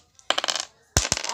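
Casino dice tumble and clatter across a hard surface in two quick rattling bursts separated by a short pause, with no voices.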